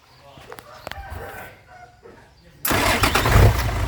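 A few faint clanks and knocks, then a Hino six-wheel dump truck engine abruptly cranks and roars to life, loud and rumbling close by.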